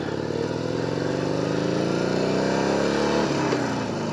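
A beginner motorcycle's engine runs steadily nearby, a continuous mid-pitched putter that rises slightly in pitch as it revs gently, with no talk over it.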